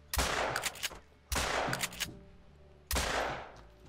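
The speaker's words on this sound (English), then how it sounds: "Okay, I have to shoot it in the air." Three loud, sharp gunshots fired into the air outdoors on Finland's Revontuli Coast, each blast followed by a fading echo and spaced roughly one and a half seconds apart.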